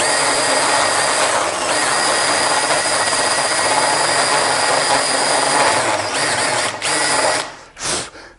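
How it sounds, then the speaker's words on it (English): A rotary tool fitted with a rough burr routing out a crack in wood gives a continuous high-pitched whine with grinding texture, close and steady, then cuts off with a couple of short bursts near the end. "I've switched back to this rough burr because I want to get a little depth here."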